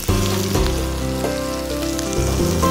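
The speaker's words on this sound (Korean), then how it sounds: "그리고 여기에 다른 채소들도 한번 볶아주세요" Vegetables for a curry rice bowl stir-fry in a hot pan, giving a steady, close crackling sizzle with a soft mechanical hum beneath and occasional stirring clinks, with no talking.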